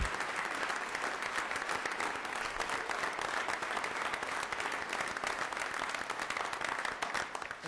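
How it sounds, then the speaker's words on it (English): Sustained applause from an audience at a city council meeting, dense steady clapping that fills the room at an even level throughout with no talk over it. "I'd like to give a round of applause for Officer Scheck"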